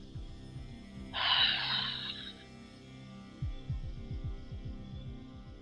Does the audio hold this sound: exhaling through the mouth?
yes